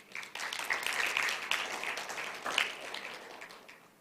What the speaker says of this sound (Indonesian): Mari kita beri tepuk tangan untuk Tuhan ya.